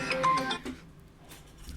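A short electronic phone ringtone plays a few quick tonal notes, then fades into near quiet.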